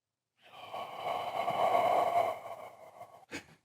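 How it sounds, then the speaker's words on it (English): A person exhales slowly through the mouth during a breathing exercise, making one long, close, breathy airy rush that swells and fades, followed by a short sharp intake near the end. "When you exhale, you do it through your mouth. So you actually make the sound of saw."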